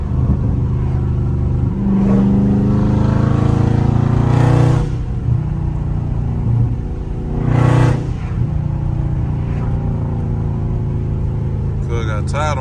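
A Dodge Scat Pack's engine in sport mode rumbles steadily and swells in a few loud revs, with voices talking over the throaty drone.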